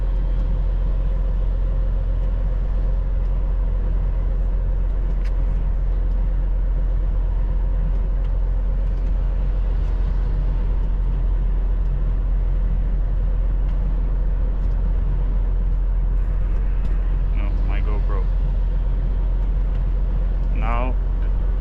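A car cruises along a German highway in rain, with a steady loud low road rumble and tire hiss filling the whole stretch and a few brief higher whines near the end.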